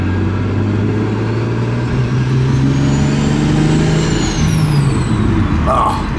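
Car engine revving and pulling through the gears while driving, a steady, close, droning note that rises and shifts, with occasional speech in the cabin.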